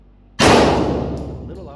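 A single sharp gunshot cracks at a shooting range in Patong, Thailand, loud and close after a brief quiet, its blast decaying with a lingering indoor ring.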